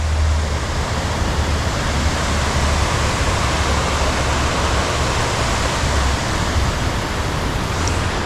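A waterfall pours in a constant, loud, broad rush of water, steady and close throughout, with a faint low rumble underneath and no talk.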